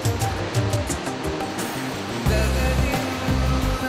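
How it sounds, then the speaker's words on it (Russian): A mountain river in East Kazakhstan's Altai rushing and roaring over rocks and rapids through a narrow gorge, a loud, dense, continuous wash of churning water with a low rumble that swells halfway through. "речки, бурлящие воды которых бешено мчатся по камням и порогам, оглашая рокотом тесные ущелья"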